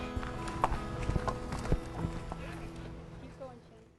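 Horse hooves clip-clopping at a walk toward a stall, an uneven run of hard, close knocks on a firm floor, with a snort or whinny and voices mixed in, fading toward the end.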